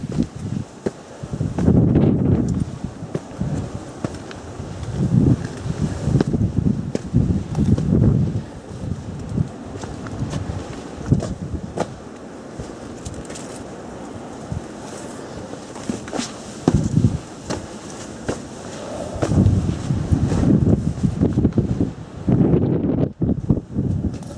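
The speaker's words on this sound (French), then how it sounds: "Toujours avec ce vent de fou." Strong gusts of wind at a small château on a hiking trail in Hérault, France, buffet the microphone in heavy rumbling bursts, rising and falling throughout with a steady rushing background.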